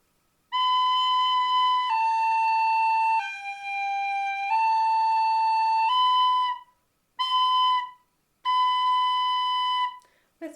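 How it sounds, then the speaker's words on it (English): Irish tin whistle plays the opening phrase of Mary Had a Little Lamb, a run of clear, pure sustained notes stepping up and down in pitch, loud and close, with short gaps between the last few phrases. "I'll play the first bit."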